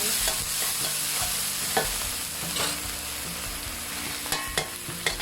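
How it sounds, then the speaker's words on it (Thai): Shrimp paste is stirred into water in a hot pan while cooking okra stir-fried with shrimp paste and minced pork. Steady scraping and stirring sound close over a soft sizzle, with occasional utensil knocks against the pan. "ละลายกะปิให้ละลายดีก่อนนะคะ เขาจะได้ไม่จับตัวเป็นก้อน"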